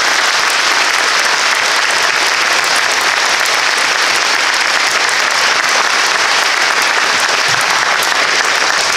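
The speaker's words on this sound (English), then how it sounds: "How about a round of applause for these folks?" Sustained applause from a school audience fills the whole stretch, dense and steady clapping with no talk over it.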